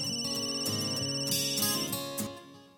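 A phone ringtone plays continuously as a bright, tuneful electronic melody, fairly loud and alone, fading slightly at the end.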